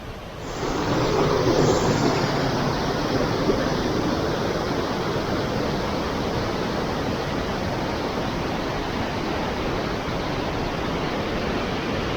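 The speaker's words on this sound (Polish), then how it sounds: "Woda sobie płynie, bardzo wartko." Constant loud rushing of a fast-flowing river near the Cascata delle Marmore waterfall in Terni, Italy, a dense unbroken roar that stays steady throughout.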